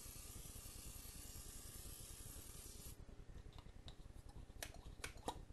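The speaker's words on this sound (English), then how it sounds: "Spray your pan." Cooking spray hisses onto a pan over medium heat in a steady, close, continuous burst. A few light clicks and scrapes follow as the spraying ends.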